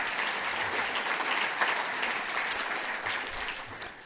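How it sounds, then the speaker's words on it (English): Steady applause from an audience at a climate panel discussion, even and sustained as a speaker is welcomed, with no voices over it. "Let's give her a round of applause"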